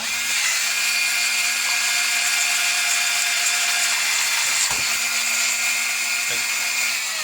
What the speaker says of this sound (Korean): 이렇게 드릴을 이용을 해서